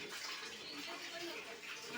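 Tap water gushes steadily in a bathroom as a container is filled, a continuous broadband rush with no breaks, moderately close but not loud.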